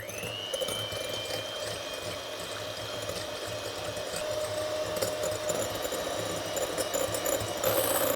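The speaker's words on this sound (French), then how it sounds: "On va monter les blancs en neige et on va mettre pour cela un petit peu de sel." Electric mixer whipping egg whites with a pinch of salt into stiff peaks for a strawberry tiramisu, a steady close motor whir with faint rattling that holds throughout.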